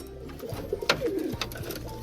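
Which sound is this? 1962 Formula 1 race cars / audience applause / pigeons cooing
pigeons cooing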